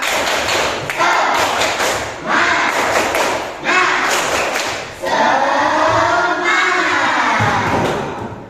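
A class of schoolchildren does a spirit-clapping cheer, clapping and shouting in unison, several loud rhythmic bursts with chanting voices rising between the claps.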